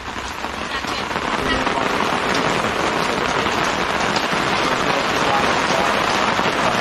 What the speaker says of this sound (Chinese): 这是要倾盆大雨啊！